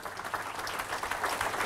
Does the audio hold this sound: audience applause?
yes